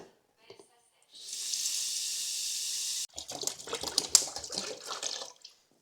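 Water from a 1-litre bottle pours into a floor leveling compound mix, a steady close hiss of about two seconds, then broken splashy and scraping sounds with brief handling noises, without clear talk.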